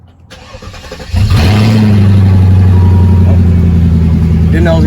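A Mercedes S500 V8 with catalytic converters cranks briefly and fires up, then settles into a loud, deep, steady idle close by.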